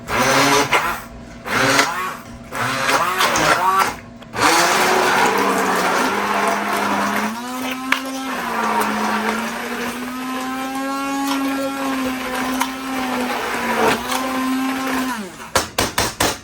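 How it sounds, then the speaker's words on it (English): Soft cooked cauliflower is pureed in a blender for mash, with a loud, close motor whir that starts, shifts pitch as the load changes and runs steadily before cutting out with a few short bursts. "And then from here, I'm just gonna blend it up."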